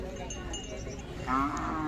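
Khillar cattle low once, a short deep moo near the end, over a low rumble of farmyard background noise at a cattle sale in Pandharpur.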